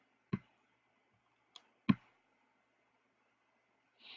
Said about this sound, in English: let's click on 19th century Europe